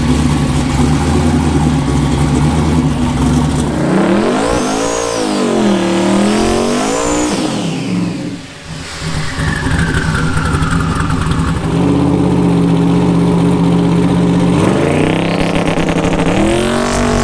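A stock-bottom-end 6th gen Camaro on a drag run, its engine roaring loud and close as it accelerates hard through rising gear pulls, briefly dipping at a shift, then climbing again with whining, sustained revs.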